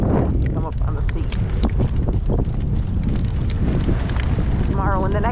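Strong gale-force wind roars steadily across the microphone, buffeting loud and close throughout with dense rumbling gusts, while a voice speaks briefly under the noise.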